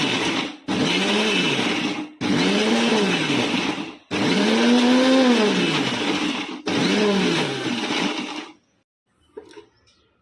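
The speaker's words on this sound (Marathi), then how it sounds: "थोडंसं ब्लेंड करून घेऊ" A countertop blender grinds dry fruits, chia seeds and pumpkin seeds in four loud whirring pulses of a few seconds each, the motor pitch rising and falling in each burst, then stopping into near silence.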